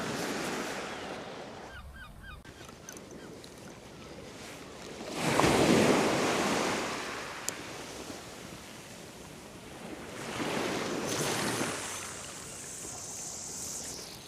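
Waves break and wash on a deep shelving beach at South Shields in North East England. Two loud surges rise and fall over a steady background of surf and wind.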